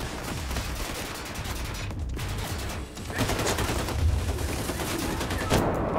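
Dense, continuous automatic gunfire from many enemies in the shooter game Wolfenstein II: The New Colossus crackles loudly and without pause, with a brief dip before the barrage swells again.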